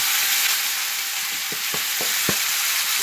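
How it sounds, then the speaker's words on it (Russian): Steady, loud sizzling of pork frying in hot oil in a well-heated pan, with a few short scraping stirs near the end and no talking. "Обжариваю до корочки. Это свининка."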